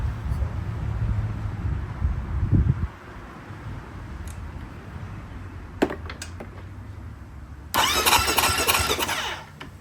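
Yamaha YFZ450R ATV engine being cranked, a rough starter churn for a few seconds that stops, then quieter mechanical noise with a few clicks and a second loud burst of cranking near the end.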